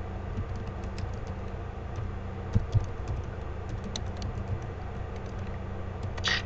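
Keys tapped on a computer keyboard as a server address is typed, a steady run of light clicks over a low background hum, close and unaccompanied by talk.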